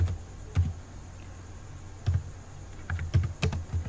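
Short bursts of keystrokes on a computer keyboard while code is entered, a few isolated taps followed by a quicker cluster near the end, close and quiet over a faint background hum.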